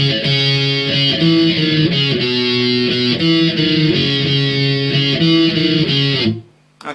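Distorted electric guitar plays the second guitar part of a song's chorus, a loud, dense, sustained riff with shifting held notes that cuts off abruptly just before the end.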